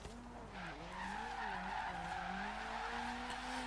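In the Forza Horizon 3 racing game, a drift car holds a long slide, its tires squealing continuously while the engine note wavers up and down with throttle, loud and close throughout without speech.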